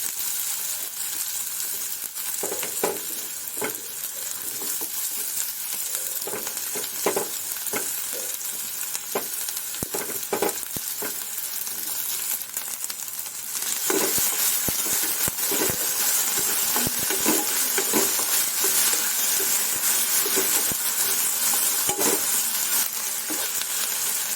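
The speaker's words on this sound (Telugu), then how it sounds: "మళ్ళీ అదే ప్యాన్లోకి మళ్ళీ ఆయిల్ యాడ్ చేసుకుని ఉల్లిపాయలు, బంగాళదుంపని యాడ్ చేసుకుని ఫ్రై అవ్వాలి" Onions and potatoes frying in oil in a pan, a continuous dense sizzle that swells louder partway through, dotted with irregular taps and scrapes from stirring, with no one speaking.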